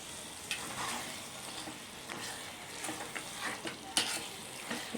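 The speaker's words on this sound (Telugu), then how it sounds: "దీన్ని మిక్స్ అయ్యేలాగా అల్లం వెల్లుల్లి పేస్ట్ ఆనియన్స్ మిక్స్ అయ్యేలా కలుపుకోండి ఒకసారి." Minced mutton stirred with ginger garlic paste and onions in a hot pan for kheema curry, giving a steady sizzle and frying hiss with scraping spoon strokes, close and moderately loud, no talking.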